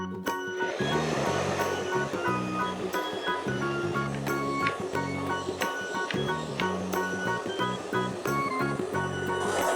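Low wind rushes over a wind-powered mechanical walking beast, making a steady, loud roaring hiss with faint tonal hums and scattered clicks from the machine running underneath.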